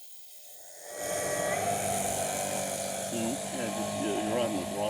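Steady high-pitched buzzing drone of a Champion Xtreme Decathlon 122-inch RC plane motor and propeller in flight with a balance vibration, starting after a quiet second and holding loud and continuous.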